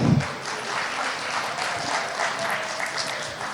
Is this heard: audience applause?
yes